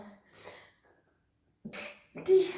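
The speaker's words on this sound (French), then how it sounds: "je vais éternuer" Near the end, two quick sharp sneezes burst out close to the mic, the second louder, after soft breathing.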